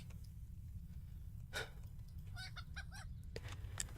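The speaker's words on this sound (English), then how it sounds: "Oh wow, there's a bunch of chickens on right now." Chickens in the fantasy video game LOTRO cluck and call in a short run of repeated, honking notes over a steady, low background hum, with no talking.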